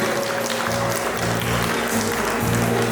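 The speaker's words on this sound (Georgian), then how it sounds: "ბატონი ბიძინა აივასაშვილს დაუბრათ აპლოდისმენტები." Wedding guests clap together in a dense, steady round of applause that fills the hall, with a low hum of music or voices running underneath.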